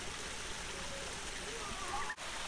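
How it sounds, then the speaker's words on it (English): Small tiered waterfall in a Japanese garden, its water burbling as a steady, moderately close wash with faint higher trickles and a brief dip near the end. "There is no shortage of waterfalls. Each one is unique and has an interesting motion and burble"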